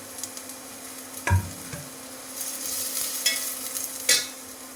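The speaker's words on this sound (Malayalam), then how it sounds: "പിന്നെ നമ്മൾ സവാള ഇതിനകത്തേക്ക് ഇട്ട് കൊടുക്കുന്നു. അതോടൊപ്പം തന്നെ ഉഴുന്നുപരിപ്പ് അത് ചേർത്ത് കൊടുക്കുന്നു." Sliced onion and urad dal frying in a pan for upma: a steady close sizzle broken by a few sharp spoon scrapes and knocks as the mixture is stirred, with no talking.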